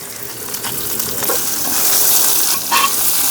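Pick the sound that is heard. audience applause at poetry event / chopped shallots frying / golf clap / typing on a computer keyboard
chopped shallots frying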